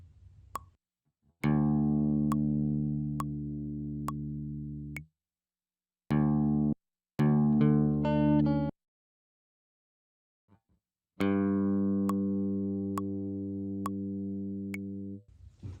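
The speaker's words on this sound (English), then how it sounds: "I'm gonna just quickly record some bassy sounds on the guitar" Bassy guitar notes being recorded for a lo-fi beat, sustained low plucked tones ringing out in separate phrases with short gaps of silence between them, close and clean with no talking.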